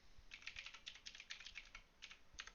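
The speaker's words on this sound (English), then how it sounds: "I'll type that in here." Rapid typing on a computer keyboard, a quick burst of close, crisp keystrokes clicking in uneven clusters with a short pause near the end.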